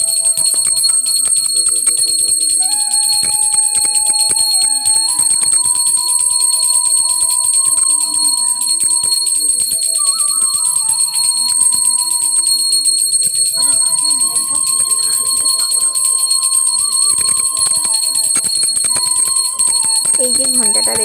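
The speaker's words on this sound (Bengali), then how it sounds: "এই যে ঘন্টাটা দেখতে পাচ্ছ আমার হাতে বন্ধুরা, এই ঘন্টাটা খুব ছোট ঘন্টা" A small hand bell rung during a home puja aarti gives a continuous, bright, high ringing throughout, steady and close, with a voice carrying on underneath.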